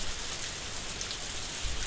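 Steady rain in the farming video game Harvest Moon, a dense, even hiss of falling drops filling the whole clip at constant loudness with no voices.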